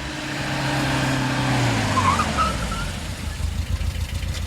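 A car engine rumbles low and steady, then its pitch drops as the vehicle slows and comes to a stop near a large grand mansion, with a faint squeal midway and a settling idle afterward.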